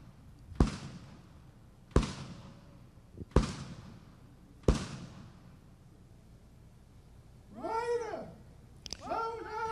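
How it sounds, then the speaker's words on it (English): Cannon fire of a 21-gun salute at the King's Birthday Parade, heard as four sharp, echoing booms evenly spaced about a second and a half apart, followed by other fainter outdoor sounds. "It was the 21-gun salute."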